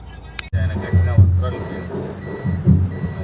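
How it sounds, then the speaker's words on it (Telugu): Busy road traffic near Tirupati with a truck's engine rumbling close by and a steady series of reversing beeps, as a person talks over it. "చూడండి ఎలాగైందో ట్రాఫిక్."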